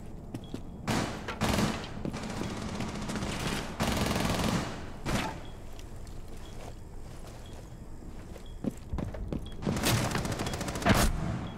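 Rainbow Six Siege match with a flurry of gunfire, including shotgun blasts: several loud broadband bursts around the start, middle and end over a busy, continuous game-sound bed, no talk.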